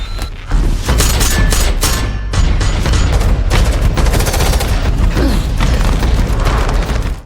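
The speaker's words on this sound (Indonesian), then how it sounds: "Di saat teman Dana menembak" Rapid bursts of gunfire ring out in a film action scene as one man shoots during a fight to free captives, loud dense volleys with booms and mechanical clatter filling the whole stretch.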